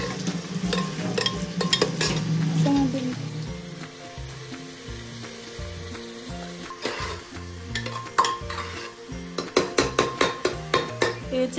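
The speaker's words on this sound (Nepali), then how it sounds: "यसलाई भुट्छ अब हामी चाहिँ चलाउँछौँ" Veg biryani ingredients fry in a pan while a spoon stirs them, giving a soft sizzle under repeated scraping and metallic clinks that grow sharper and more rhythmic toward the end; no voices.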